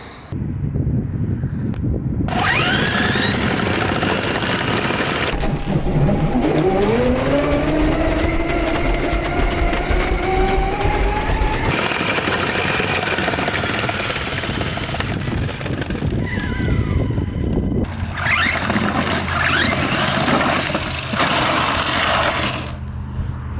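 A small RC car with wooden wheels drives nearby, its electric motor whining loudly and steadily and rising and falling in pitch as it speeds up and slows down.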